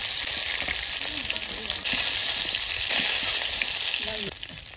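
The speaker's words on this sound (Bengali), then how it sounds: "এই বাদবাকি মাছটাও আমি এইভাবে ভেজে নেব" Hilsa fish pieces fry in hot oil in a pan, giving a steady, loud sizzle with occasional crackles and stirring sounds throughout.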